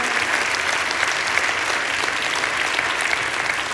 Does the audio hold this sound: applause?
yes